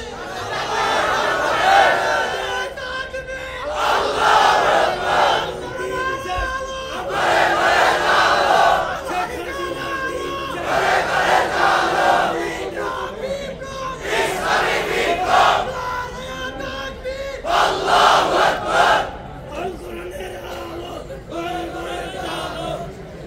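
A large crowd at a religious rally shouting slogans together in answer to a takbir call, loud rhythmic massed voices in repeated surges with brief pauses between chants.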